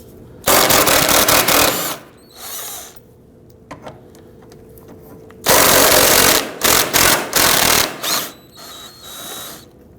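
Bursts of an impact or power tool remove 10mm bolts from the radiator support of a 2009-2017 Volvo XC60, loud and close, in rattling runs of a second or two separated by short pauses.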